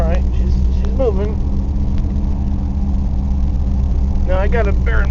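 An old truck engine runs with a steady, deep rumble throughout as the truck starts moving, while someone talks briefly at the start and near the end.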